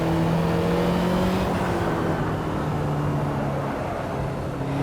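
A Ferrari 288 GTO in a racing video game accelerates hard, its engine note held loud and steady with a rising tonal whine, no voices over it.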